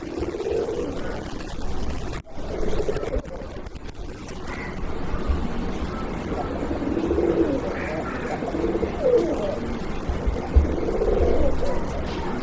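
Raj-golla pigeons coo in low, rolling, repeated murmurs over a steady background hiss, fairly close and moderately loud.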